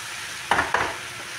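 Ground garam masala stirred into a cauliflower and pea curry in a pan: two close scraping strokes of a spatula rise over a soft, constant sizzle, with no voices.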